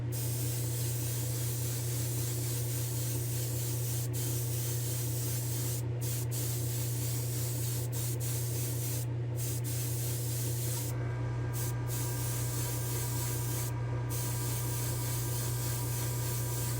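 Aerosol spray paint hissing continuously onto a Matchbox AMX model car, a steady close spray with brief pauses and a faint rubbing sound partway through.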